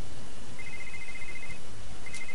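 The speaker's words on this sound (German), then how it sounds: "Unser Telefon klingelt." A telephone rings at the front desk of a hotel in the detective game Die Kunst des Mordens 2, two electronic trill bursts with a short pause between them, alone over a steady background hum.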